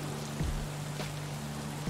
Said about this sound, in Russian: Дождь и туман